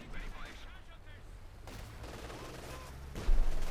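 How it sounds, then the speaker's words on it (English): Machine guns rattle in Company of Heroes 2, a World War II strategy game, with dense overlapping bursts of gunfire and scattered impacts continuing throughout, swelling louder near the end. "Magnus also might be able to help with all these machine guns, which Jesulin is, I think, making reasonably good use of here"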